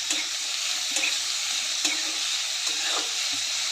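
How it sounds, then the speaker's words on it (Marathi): Colourful vegetables stir-fry in hot oil for veg hakka noodles, producing a loud, steady sizzle close by. Periodic scraping and tossing strokes from the spatula break through the hiss. "तर हे सर्व तेलामध्ये 2 मिनटं परतून घेऊयात"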